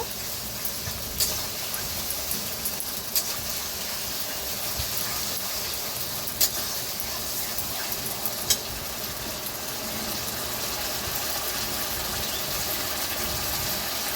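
Masala for Awadhi murgh korma sautés in a pan with a constant broad sizzling hiss, close and even, with a few faint scraping ticks from stirring.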